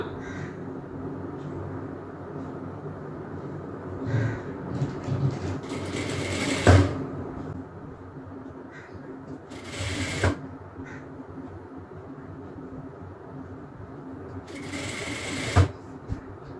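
A sewing machine stitches a petticoat in three short whirring bursts, each lasting about a second. Someone talks quietly between and over them.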